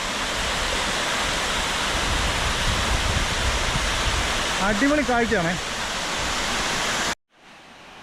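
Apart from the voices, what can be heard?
Vengathanam stream waterfall, rushing water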